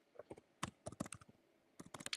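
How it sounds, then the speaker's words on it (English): Keys clacking on a computer keyboard in short irregular bursts, fairly close and clear, with a pause mid-way before another quick flurry of strokes; no voices. "he's typing. I can hear him typing."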